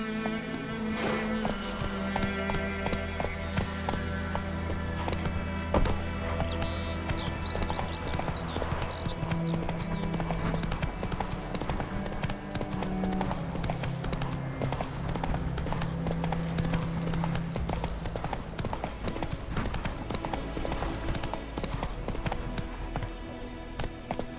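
Roach the horse clip-clops in The Witcher 3 with continuous rhythmic hoofbeats under sustained game music, and a short whinny stands out briefly among the steady footfalls.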